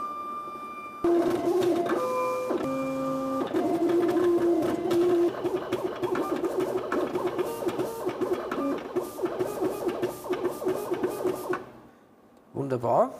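A cutting plotter slicing white flex vinyl film for T-shirt transfers whirs and buzzes steadily with rapid stepping motor pulses for about ten seconds, close up, then stops as voices talk nearby.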